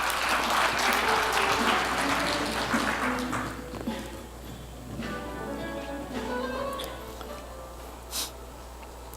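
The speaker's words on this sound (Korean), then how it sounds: "큰 박수로 맞이해 주시면 감사하겠습니다." Audience applause in a conference hall, dense and loud at first, then thinning out into scattered claps and a few taps over several seconds, with no speech over it.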